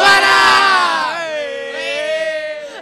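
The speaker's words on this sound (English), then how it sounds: "Can we get a cheer from you guys?" A group of team members yells and cheers loudly together at a Shell Eco-marathon world championship, a sustained chorus of voices that trails off into drawn-out shouts.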